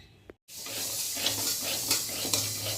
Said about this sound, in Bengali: মুগ ডাল হালকা করে একটু ভেজে নিচ্ছি।